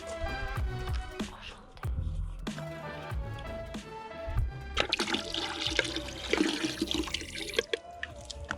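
Coolant draining out of a 1992 Mitsubishi 3000GT VR4 during a coolant flush, a steady, close splashing and trickling pour of liquid that continues for several seconds with small drips and gurgles.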